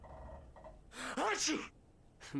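A character in the video game Alan Wake sneezes once, a sharp burst with a breathy intake before it, followed by a faint short sound afterward.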